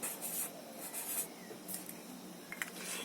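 A chemical symbol being written by hand for a Lewis dot structure, soft close scratching strokes in short bursts with brief pauses between them, quiet and with no voices.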